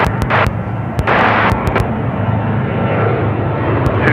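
Airliner taking off from runway 34 right at Seattle-Tacoma International Airport roars with loud, rumbling engine thrust, broken by several sharp crackling bursts and clicks early on, then settling into a sustained heavy drone.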